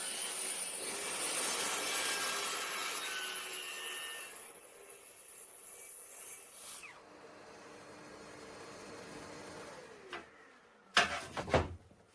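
A saw cuts along a track rail on wood for shaker doors, a steady whirring rasp for several seconds that fades out, followed by a few sharp knocks and clatters close by.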